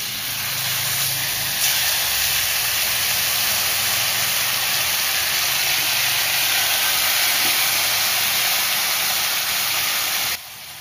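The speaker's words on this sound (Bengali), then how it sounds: "আর চিকেনের পিসগুলোকে আমি এই কড়ার ভেতরে দিয়ে দেবো।" Chicken tandoori pieces sizzle in a buttered kadai with steady, loud frying hiss that runs almost unbroken, then drops abruptly near the end.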